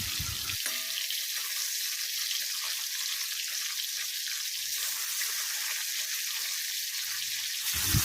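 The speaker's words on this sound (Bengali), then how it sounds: "মাছগুলো এখন একটা একটা করে উল্টে দিচ্ছি আর এক পিঠ আবার ভালো করে ভেজে নেবো" Katla fish pieces frying in hot oil in a home kitchen, a steady loud hiss and crackle running throughout with a brief clatter near the start and end.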